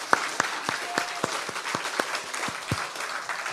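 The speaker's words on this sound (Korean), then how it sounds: "우리 하나님께 영광의 박수 한번 올리겠습니다." Applause from a congregation during a Korean Methodist church anniversary Sunday worship service: a thin spread of individual claps rings out at a steady, uneven pace, moderately loud in the sanctuary, with no one speaking.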